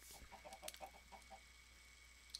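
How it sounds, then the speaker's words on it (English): Chickens cluck in the Minecraft video game, several short faint clucks in quick succession over a low steady background hum, with no talking. "I hear chickens walking."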